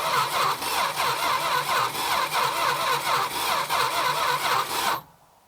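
The engine of an abandoned Plymouth Barracuda, sitting for decades with a wet spark plug and no spark, cranks over steadily with a rhythmic starter churn for about five seconds without firing, then stops.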